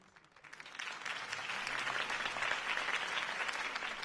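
Broad, steady applause from a large crowd rising after a campaign speech, swelling within the first second into dense continuous clapping that carries on to the end at a moderate distance.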